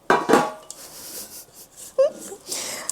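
Pound cake batter goes into a metal loaf pan with clinks and scrapes of a utensil against the pan, a sharp clatter at the start and another near the end, and soft rubbing in between.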